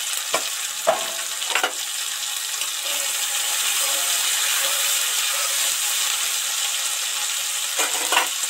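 Cumin seeds, coriander and chillies sizzle and spit in hot oil in a pan, a steady close crackling frying hiss with a few sharper pops and stirring clatters at the start and end, no voices.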